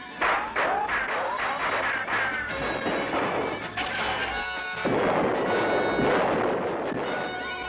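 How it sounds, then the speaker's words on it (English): Loud crashing bangs and blasts burst out in a dense, chaotic barrage of cartoon cannon and gunfire, with a busy noisy background and no clear speech. "Still your cannon. Quiet your guns."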